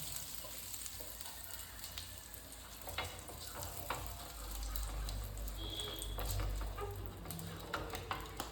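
Steady, gentle sizzling of butter in a hot pan, with occasional light clicks and scrapes of a utensil.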